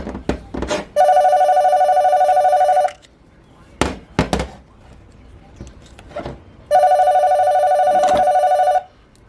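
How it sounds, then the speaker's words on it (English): Desk telephone ringing in a transmission workshop during planetary gear assembly, two long loud electronic ring bursts about two seconds each with a gap between, separated by clunks of parts being handled. "Lucas, the phone's like ringing."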